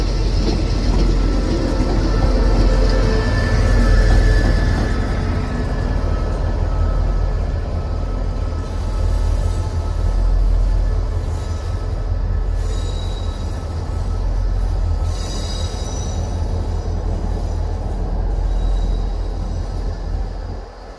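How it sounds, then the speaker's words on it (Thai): An Alsthom locomotive, number 4142, hauls express train 83 on the Bangkok Apiwat to Trang line, giving a continuous loud rumble of rolling wagons. Thin, high wheel squeals rise and fade over the steady clatter. "รถจักรที่ทำขบวน รถด่วนที่ 83 นะครับ"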